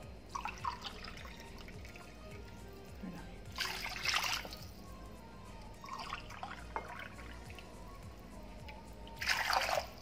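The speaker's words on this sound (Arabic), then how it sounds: "نزيدو عليها زوج كيسان تاع الما دافي" Warm water trickling and splashing into a bowl of pizza dough mixture, with short dribbling bursts and quieter gaps at close range, no talk.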